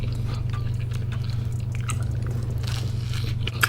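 A close, crunchy bite into pizza crust followed by steady chewing, heard over a constant low hum of restaurant background noise.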